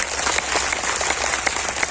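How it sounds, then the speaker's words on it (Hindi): Loud, dense applause from an audience at a devotional gathering, honoring a guru. It sounds like a continuous wall of many hands clapping close by, with no voices over it. "एक बार गुरुदेव के लिए जोरदार ताली तो बजा दो।"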